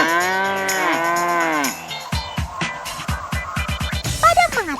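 Several cattle moo loudly and up close at a cattle farm complex at the foot of Mount Sago near Payakumbuh, West Sumatra, with long drawn-out calls first, then shorter overlapping lows and grunts from the herd.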